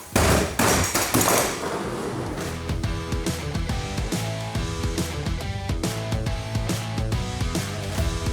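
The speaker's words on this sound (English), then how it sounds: "we're gonna accidentally drop it down the stairs" An X-Scrub Mini 11-inch floor scrubber tumbles down a flight of stairs, a loud initial crash followed by a rapid clattering series of hard thumps and knocks as it bounces from step to step.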